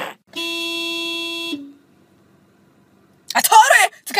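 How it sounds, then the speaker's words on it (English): A single steady car horn honk sounds for about a second, followed by silence, then a voice speaking loudly close by. "I told her to come outside when I honk!"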